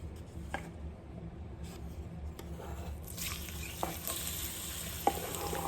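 Onions hit a hot skillet for a Caribbean salt fish dish. Quiet scraping and stirring give way to a louder, broader sizzle that builds partway through, with a few small clicks.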